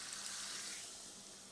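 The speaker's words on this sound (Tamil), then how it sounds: "நமக்கு தேவையான அளவு இப்போ தண்ணி ஊற்றி வச்சுக்கணும்" Water poured into a cooking vessel while preparing an eggplant dish, a steady broadband hiss of flowing liquid that fades slightly toward the end, close and continuous with no talking.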